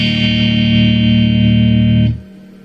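Loud, sustained electric guitar chord ringing through an amplifier with a touch of reverb, no pedal, held steady for about two seconds before cutting off abruptly.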